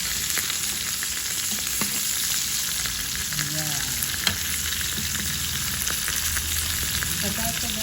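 Milkfish (bangus) steak fries in hot oil with a dense, continuous sizzle and crackle throughout, close and loud, with a few faint clinks of a utensil and no talking.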